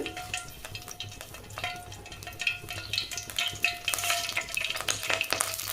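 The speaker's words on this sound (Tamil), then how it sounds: "எண்ணெய் ஊற்றிட்டு கடுகு உளுந்த பருப்பு போட்டு தாளிக்கிறதுக்கு" Mustard seeds and urad dal crackle and sizzle while tempering in hot oil for sambar, with light stirring of the pan and continuous close frying noise that grows busier toward the end.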